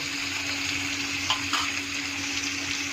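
Chopped tomato fries in a pan while being stirred, making a close, even hiss of sizzling with a couple of brief scraping strokes and a faint steady hum behind, with no talking.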